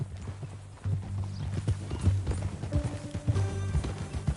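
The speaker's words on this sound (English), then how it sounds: "That new horse?" Horse hooves clip-clop steadily in Red Dead Redemption 2, close and fairly loud, with a low hum of game ambience running beneath the even hoofbeats.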